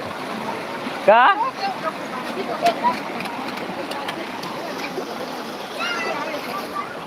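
Water splashes steadily at a waterfall at Sandhida Mahadev, a continuous wash of noise, while people talk and call out nearby and a voice rises sharply early on.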